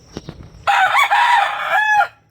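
An SBR gamefowl rooster gives one loud, close cock-a-doodle-doo that lasts about a second and a half. A few soft clucks come just before it, likely from the pullet with him.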